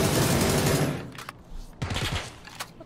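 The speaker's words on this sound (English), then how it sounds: "I was just test firing" Dense burst of automatic gunfire from PUBG, loud and continuous for about a second, then fading into scattered shots and echoing reports.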